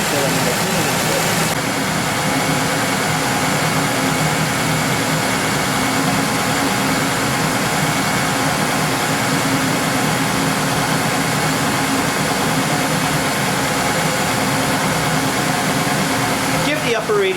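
Honda Accord engine running steadily during a coolant refill, with a loud, continuous broadband hum lasting throughout, close by.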